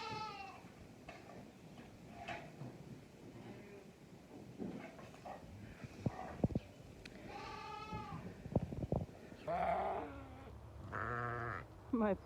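Dairy sheep ewes bleat on a snowy winter farm, several close, overlapping calls growing louder and more frequent toward the end over low background noise.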